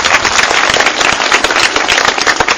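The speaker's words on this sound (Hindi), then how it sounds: "एक बार पूरा सदन ताली बजाकर बताए कि मेरी बात आप तक पहुंच रही है" A large audience at a poetry recital claps loudly and densely, a continuous close wash of many hands with sharp individual claps standing out.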